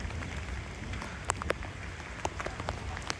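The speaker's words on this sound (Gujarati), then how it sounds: "અને વરસાદ તો ચાલુ જ છે ભાઈ એકદમ." Rain falls steadily at Uparkot fort in Junagadh, a constant broad hiss with a few brief drop taps and splashes near the middle and end, no voices.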